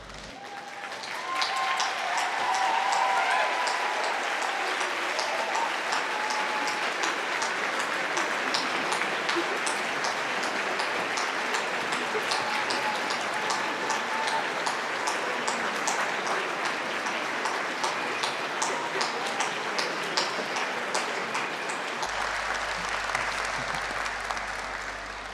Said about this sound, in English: give them a round of applause and a big cheer